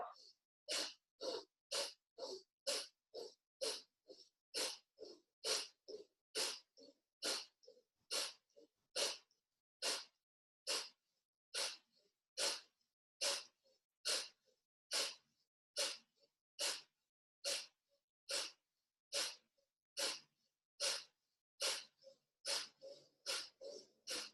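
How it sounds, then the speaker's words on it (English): Deep breathing during an exercise routine: about thirty sharp, evenly spaced breaths in and out, close and clear, repeating rhythmically in a quick steady cycle without pause. "we're gonna take a deep breath in here. Exhale, inhale, exhale, inhale, exhale, and keep going"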